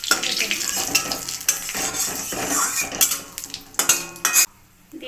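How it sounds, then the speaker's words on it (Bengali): Garam masala, bay leaves and dried chillies fry in a pan for a country chicken and egg curry, with a steady sizzle under repeated scraping and clinking of a metal spoon against the pan. "গরম মশলাগুলো, তেজপাতা, শুকনো লঙ্কা ভালো করে ভেজে নেব।"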